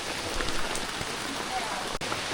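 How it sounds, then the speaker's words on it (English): Rain falls on a jungle walk at a monkey conservation centre in North Vietnam, a close, steady patter of drops on surfaces with occasional louder taps, continuous throughout with faint voices underneath. "it's just so rainy"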